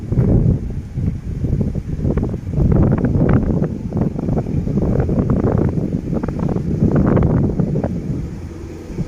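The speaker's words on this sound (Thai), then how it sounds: "ลมค่อนข้างแรงเลยนะครับลมว่าวนะ" Steady roar of strong wind buffeting the microphone beside a railway line in southern Thailand, with gusty surges and low rumbling throughout, no voices.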